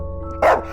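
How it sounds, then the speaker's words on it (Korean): A dog gives one sharp, loud bark that stands out clearly over a steady low background hum. "사납게 짖어대기 시작했다"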